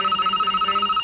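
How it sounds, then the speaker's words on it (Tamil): A telephone rings with an incoming call, a short burst of rapid trilling electronic pulses at a steady pitch, loud and clear with no voices. "ஃபர்ஸ்ட் ஃபோன் வருது பிரதர்."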